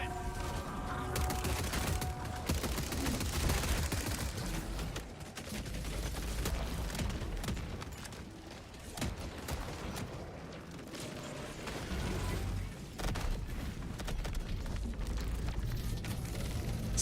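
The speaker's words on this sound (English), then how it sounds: "that autocannon is just slaying out right now" Autocannon gunfire in a video game battle against Illuminate enemies, sustained bursts of loud rapid shots and blasts filling the whole stretch with a dense, continuous barrage.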